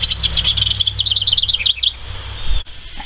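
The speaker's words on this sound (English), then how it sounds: "Or it might be a beautiful song like this northern house wren. I love his song." A northern house wren sings a rapid, bubbling run of high chirps and trills for about two seconds, then falls silent over a steady low background hum.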